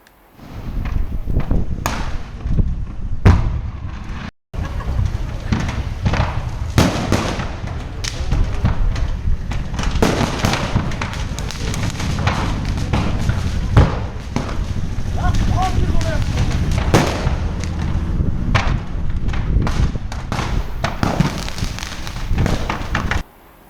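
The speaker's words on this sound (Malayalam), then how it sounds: "ലോറിയിലെ പടക്കം മുഴുവനും കത്തിനശിച്ചു." Firecrackers carried in a burning container lorry go off in a dense, continuous run of sharp bangs, thuds and crackles lasting over twenty seconds, with a voice talking over much of it.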